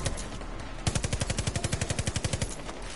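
Rapid automatic gunfire from the Bullfrog gun in Far Cry 5, a steady burst of about twenty close, loud shots in even rhythm lasting under two seconds, with no talking.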